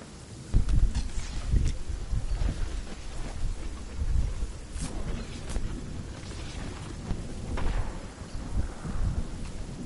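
Thunder and rain from the storm in the video game Fortnite: a steady, loud low rumble with rolling thunder swells and a wash of rain and wind throughout, with no talk.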